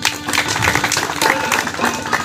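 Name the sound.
audience applause at a Home Guard ceremony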